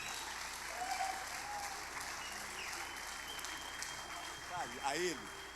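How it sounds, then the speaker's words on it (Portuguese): A church congregation applauds steadily throughout, a dense wash of clapping with faint voices mixed in. "Vamos aplaudir mais uma vez, que Ele merece."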